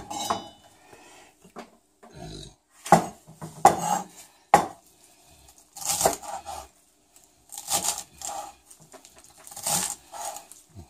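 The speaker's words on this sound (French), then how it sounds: "Maintenant on va prendre le persil. Je vais pouvoir presque tout mettre. On va couper" A knife chops fresh parsley on a board while paella is prepared, with bursts of sharp, close taps and knocks separated by short pauses, and occasional clinks of utensils.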